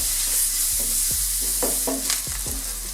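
Ginger garlic paste sizzles steadily in a hot pan, with a spoon scraping and knocking against the metal every half second or so, close and continuous.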